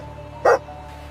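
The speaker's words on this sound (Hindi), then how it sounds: "मोती ऐसे ही नहीं भौंकता" A dog in a small fishing village on the coast of Goa gives a single sharp bark, loud and close, standing out above a faint, steady hum.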